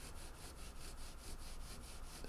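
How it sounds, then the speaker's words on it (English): A maroon Scotch-Brite pad scrubs with the grain across the wood of a Teisco EP-11T guitar, giving faint, rhythmic rasping strokes repeated about twice a second, close and alone. "I'll remove the fret shield and do a maroon Scotch-Brite pad with the grain of the wood."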